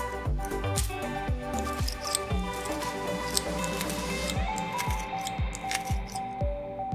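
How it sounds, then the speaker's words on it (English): Kitchen scissors snip green chilies over a bowl of grated radish (mooli), a quick series of crisp cuts repeating steadily up close, with soft squishy clicks and no talking. "So we are using the scissors to chop the green chilies."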